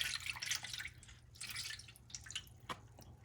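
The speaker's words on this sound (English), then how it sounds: "I'm going to put some water here." Water is poured into a brisket pan during oven-cooking prep, splashing and dripping in several close, moderately quiet bursts with a short sharp drip near the end.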